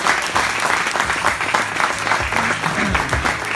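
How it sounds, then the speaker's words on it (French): Sustained audience applause, dense and steady clapping from a crowd that fills the whole stretch without pause. "il faut l'applaudir, il faut l'encourager."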